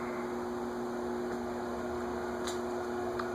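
A garage fan runs with a steady electrical hum and constant whooshing airflow, a faint tick breaking in now and then, moderately close with no talking.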